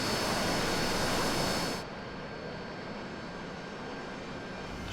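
An AV-8B Harrier jet engine in the DCS flight simulator roars steadily while taxiing, a loud broadband rush that drops to a lower, still-constant level partway through, with no talk.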